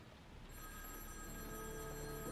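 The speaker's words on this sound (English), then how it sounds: "Wait, the phone's ringing?" A telephone ringing in the video game Heavy Rain, a faint electronic ring that begins partway through and continues steadily as a quiet tone over low background hum.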